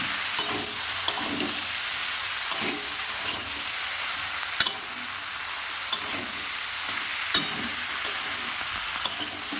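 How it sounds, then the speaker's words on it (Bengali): Pre-boiled spinach being stirred with prawns in a pan for a prawn spinach curry, a faint steady sizzle punctuated by sharp, evenly spaced clicks of a spatula against the pan, with no talking. "আগে থেকে সিদ্ধ করা পালং শাকগুলি দিয়ে দিলাম। নেড়ে নিলাম।"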